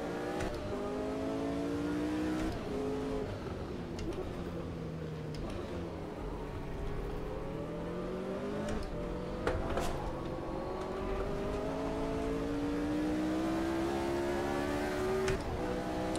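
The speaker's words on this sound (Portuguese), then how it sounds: "Vamos andar com esse carro aqui, ele é bem difícil de segurar" Engine of the McLaren Formula 1 car in Automobilista 2, with a five-speed manual gearbox, revving steadily through the gears with rising and falling pitch for the whole stretch, loud and continuous with no talk.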